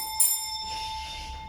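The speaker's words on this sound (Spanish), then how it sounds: "es que está sonando la alarma sísmica" A seismic alarm rings out as a sharp, bright electronic bell tone that starts suddenly, then settles into a steady, sustained ringing with a faint wash of background noise.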